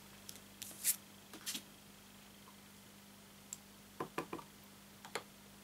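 Card stock being trimmed with scissors at a paper-crafting table: a handful of short, crisp snips and ticks scattered across a quiet room, fairly close and light, with no talking.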